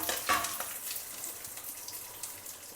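Spices, green chilli and peanuts roasting in hot oil in a pan, a soft continuous sizzle and crackle with light stirring, close and fairly quiet.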